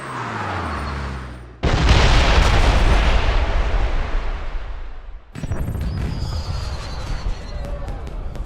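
Fireworks burst in the James Bond 007 Blood Stone video game, a loud booming explosion with a long crackling roar, then a sudden cut to a second dense volley of crackling pops and bangs.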